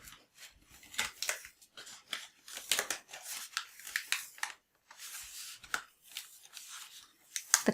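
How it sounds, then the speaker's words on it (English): Cricut cutting mat being peeled back from a sheet of kraft board, giving a series of close, crisp crackling and tearing bursts in short uneven pulses, with brief pauses between pulls. "I'm going to peel the mat back and away from"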